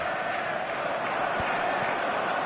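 Steady, dense stadium crowd roar at a football match in a video game, a constant wash of voices and chanting at even loudness throughout, with no single voice standing out.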